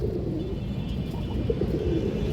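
Pigeons at a farm coo in low, soft murmurs beneath a constant rumbling background, the calls steady and close with no clear gaps, and no one speaking.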